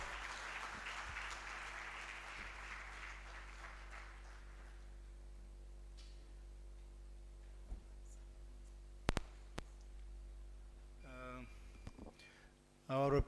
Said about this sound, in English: He deserves a louder round of applause